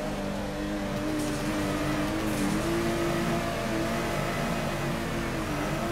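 Drift car engine in the Torque Drift video game, a steady sustained drone held at a constant pitch for several seconds with no talking.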